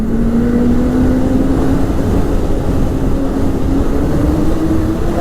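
A Ski-doo Renegade 900 ACE snowmobile engine at full throttle gives a loud, continuous drone whose pitch climbs slowly, heavy with wind and track rumble and no pause from start to finish.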